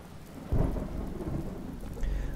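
Rain with thunder in the Watch Dogs video game, a steady wash of rainfall with a deep rumbling thunder roll rising partway through, moderately loud and without talk.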